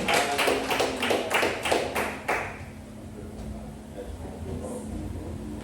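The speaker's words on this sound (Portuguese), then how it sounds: "As palmas para o Senhor." A church congregation claps during a worship service, with a run of steady, rhythmic claps close by that stops abruptly after about two seconds and leaves a low room hum and faint murmuring.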